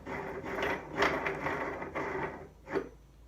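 A Turncrafter Commander KWL-1018VS wood lathe whirs up and spins with a close mechanical hum and rattling, surging a couple of times before easing off near the end, with no voices.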